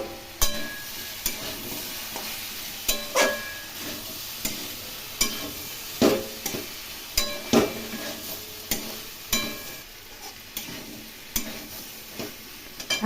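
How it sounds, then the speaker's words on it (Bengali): Vegetables cooking in a covered pan with green chilies and a little sugar are stirred again and again, a steady soft sizzle broken by rhythmic scraping and clinking strokes of a utensil, close and with no talking. "এখন ঢাকা দিয়ে বারবার নেড়ে নেড়ে এই সবজিটি রান্না করতে হবে"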